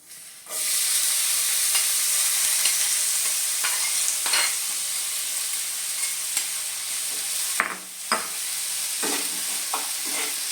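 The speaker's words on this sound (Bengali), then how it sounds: "পেঁপেটা আমি 4 থেকে 5 মিনিট ভালোভাবে নেড়ে চেড়ে দিব।" Papaya pieces fry in a hot pan for a Bengali chutney, a loud continuous sizzle with occasional scraping and clinks of the stirring spoon, close up and without talking.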